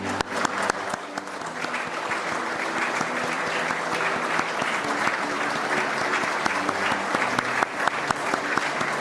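Sustained crowd applause greets arrivals on Prime Minister Carney's cabinet day, steady and continuous for the whole stretch with sharper individual claps popping out, a faint murmur of voices beneath.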